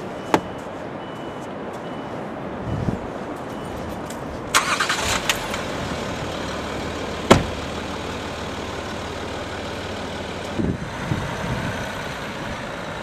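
A Land Rover Discovery HSE TDV6 drives over soft sand, its steady engine and road rumble continuous throughout, with a few sharp knocks and clunks from the cabin.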